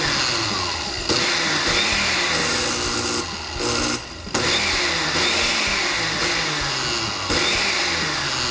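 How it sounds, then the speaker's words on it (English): A blender pulsing coarse oats into a finer powder, a loud steady motor whir with two brief cut-offs midway before it restarts, no talk. "we're going to put these in the blender by themselves"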